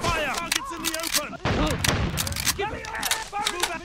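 Bursts of gunfire in the military video game Elite Wars, repeated shots crackling beneath almost constant shouted voices of soldiers giving commands.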